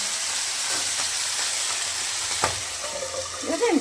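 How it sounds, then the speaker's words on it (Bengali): Fish fries in a pan with a steady, loud sizzle and hiss throughout, joined near the end by a brief utensil scrape and a faint voice. "মাছ ভাজতেই আমার যত ভয়"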